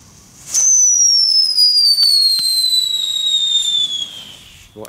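Funke consumer fireworks set off outdoors at night, a loud sharp burst followed by a long, steady descending whistle lasting several seconds, with a few faint crackles alongside.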